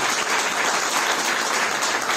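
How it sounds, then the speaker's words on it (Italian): Audience applause at an occult convention panel, a steady, even wash of many hands clapping that fills the whole moment without pause or voices. "Farei un applauso intanto a Marco Marcomatti"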